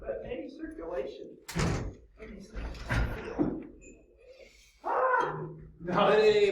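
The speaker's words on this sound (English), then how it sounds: "I don't think it's any better to open this door" A door is opened inside a hot room, with bangs and clatter standing out amid ongoing conversation between people nearby.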